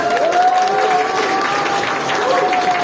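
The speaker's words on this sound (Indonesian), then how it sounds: "Tepuk tangan Pak" Applause from the audience at the opening of a university national seminar, loud and continuous throughout, with a steady tone ringing over it and voices heard faintly beneath.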